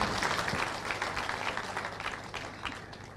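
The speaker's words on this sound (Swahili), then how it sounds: "Makofi kwa Deputy Governor." A crowd at an outdoor farewell party in Kericho applauds the Deputy Governor of Kisumu County, a steady wash of many hands clapping at moderate distance that eases slightly toward the end.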